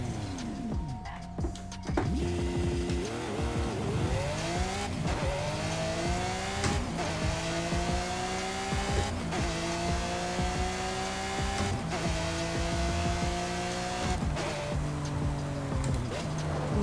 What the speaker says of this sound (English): Just watch the acceleration of this thing.